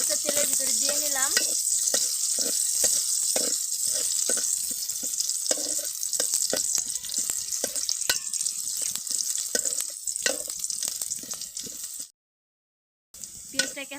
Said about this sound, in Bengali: পেঁয়াজটা তেলের ভিতরে দিয়ে নিলাম।